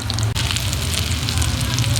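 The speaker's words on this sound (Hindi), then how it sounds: "जी तो यहाँ पे मैंने कबाब डाल दिए हैं और अब इनको गोल्डन फ्राई करेंगे।" Chicken shami kebabs fry in oil in a pan, a steady close sizzle and crackle with no pauses.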